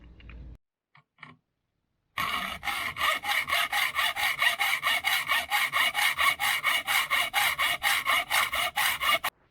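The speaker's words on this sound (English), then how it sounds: "So first do a rough cut and then file it down." Hand saw makes a rough cut in a thick aluminum profile: after a few faint knocks, about twenty-five rhythmic back-and-forth rasping strokes, close and steady, with no talking.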